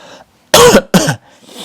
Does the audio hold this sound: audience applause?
no